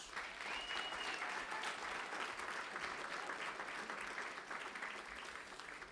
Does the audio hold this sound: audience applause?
yes